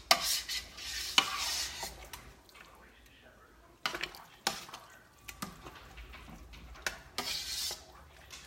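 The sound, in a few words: stirring a large pot of chili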